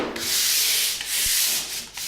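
A pole sander scrubs across a plaster ceiling in long, steady rasping strokes, loud and close, with short breaks where the stroke changes direction.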